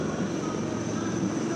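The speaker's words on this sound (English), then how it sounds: "A lone helicopter, rather 3 helicopters in Vic formation as they move forward" Three helicopters fly overhead in V formation during the Republic Day parade at Kartavya Path, New Delhi, giving a steady, loud rotor and engine drone over broad crowd and broadcast background noise.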